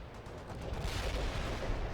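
Artillery fire in the World in Conflict real-time strategy game, a dense rumbling barrage of booms and blasts that grows slightly louder, heard alone without talk.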